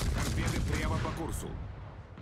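Naval gun salvos from a warship in World of Warships boom and rumble in quick succession during a match, dense low thuds close by and fading slightly toward the end.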